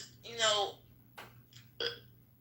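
A podcast host lets out a short burp between bits of talk in a quiet room, with people speaking around it.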